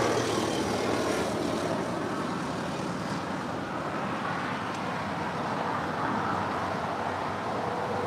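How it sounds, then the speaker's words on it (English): A Gulfstream G550 jet passes near LAX as a steady broad roar that holds at moderate, distant loudness throughout, blending with a low background rumble and no clear voices. "here's a Gulfstream G550 heading up the coast to San Luis Obispo"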